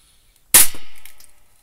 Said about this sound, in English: I shot the wall and the bullet ricocheted the whole way back and hit me in the fucking leg